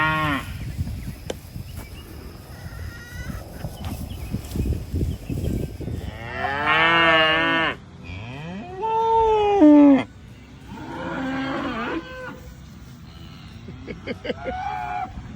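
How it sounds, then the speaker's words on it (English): Several cows moo nearby in long, drawn-out calls, one after another, with softer rustling and background noise between them. "All the cows are meeting right now."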